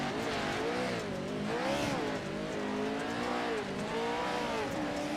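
An off-road race vehicle's engine is captured onboard during a heat race, revving steadily with rising and falling pitch as the throttle works, loud and close without a break.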